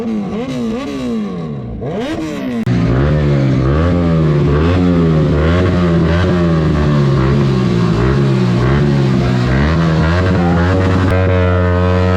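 Many motorcycles gathered at a roadside dhaba, engines idling and revving together in a loud, steady rumble with rising throttle sweeps, no talk over it.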